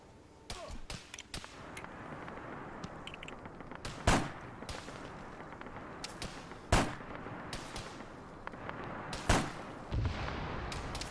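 Arma 3 battle scene with anti-tank launches aimed at a .50 cal position amid gunfire: sharp, heavy shots ring out irregularly at mid-distance, several louder booms standing above a steady background of battle noise, with no talking.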